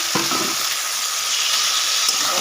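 Taro leaves (kochu shak) hit hot fried spice paste in a pan with a steady, close sizzle, a brief clatter of stirring near the start and a continuous frying hiss throughout.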